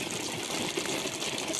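Water is poured evenly over a planting medium for imported grape vines to dampen it, a steady close gush and splash that holds constant throughout with no voices.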